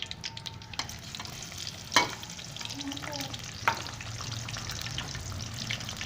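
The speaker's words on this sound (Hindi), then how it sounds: "अभी इसमें मैं प्याज शामिल कर लेता हूँ।" Chopped onions sizzling in hot oil in a pot for a gourd and chana dal curry, a soft steady crackle with a couple of sharp utensil clinks and stirring, fairly quiet and without speech.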